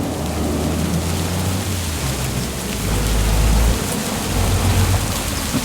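Steady rain hisses throughout in a farming video game set on Montana's Judith Plains, with low rumbling swells like a downpour with distant thunder, loud and continuous with no voices.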